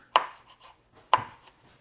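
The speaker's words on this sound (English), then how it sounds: "what you're gonna do is you're gonna chop this up super fine" Two sharp knife strikes on a cutting board as canned artichokes are chopped super fine, about a second apart, each with a crisp thud and a short trailing scrape, close and quiet with no talk.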